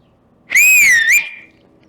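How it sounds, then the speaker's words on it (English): A loud two-finger whistle rings out alone for about a second, rising and then dipping before a short upward flick at the end, with bright harmonics over near silence. "with a little bit of practice, you can get a really loud whistle consistently"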